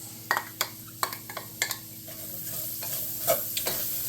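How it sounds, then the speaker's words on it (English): Diced onion hits hot bacon fat in a pan and crackles in a steady close sizzle, with sharp stirring scrapes and clicks from a utensil punctuating it every half second or so. "So we've got our 2 tablespoons of reserved bacon fat in here in the pan. And we're going to add our medium diced onion."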